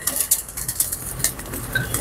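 Pigeons feeding on paddy from a hand, with soft cooing and quick pecking and fluttering sounds, close and busy over a short stretch.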